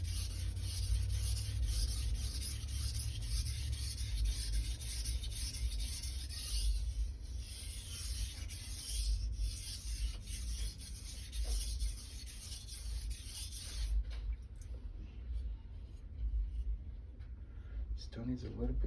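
A knife blade is stroked repeatedly against a sharpening stone, giving a steady scraping rasp that continues for most of the stretch before easing off near the end, with someone talking over it.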